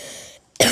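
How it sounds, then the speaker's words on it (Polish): A Polish-speaking gamer playing Fortnite gives a single short, sharp cough close to the microphone. A brief hush comes just before it. "mam taki kaszel, że kaszlak jakiś głupi"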